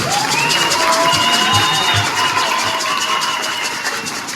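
A children's Mass congregation at Sainte Agnès parish applauds and cheers, a dense, steady wash of clapping with excited young voices rising over it for several seconds, close and loud.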